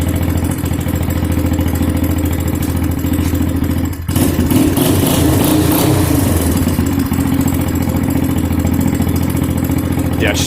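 A 1984 Honda ATC 200x three-wheeler with a swapped 200s engine idling after a cold start, a loud, close, steady putt-putting rumble with a brief clattering disturbance partway through.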